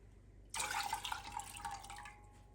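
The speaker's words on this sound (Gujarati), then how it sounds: "આપણે જે પાણી લીધું છે 1/2 કપ, એ બધું પાણી આપણે એડ કરી દઈશું." Half a cup of water poured into jaggery while making wheat flour sheera, a steady splashing pour that begins abruptly after a brief quiet moment and runs on to the end.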